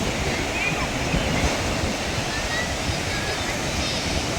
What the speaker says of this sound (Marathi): वरसोली बीचला आलो आहे मित्रांनो आपण